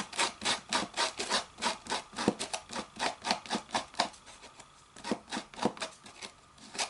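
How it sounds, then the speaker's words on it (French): A cardboard toilet roll tube is rasped with a file, a steady run of quick scratchy strokes, close and fairly quiet, with a brief pause partway through. "vous le limez."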